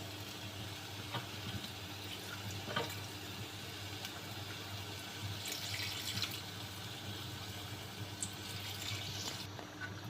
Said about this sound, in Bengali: এখন হালকা পানি দিয়ে দেবো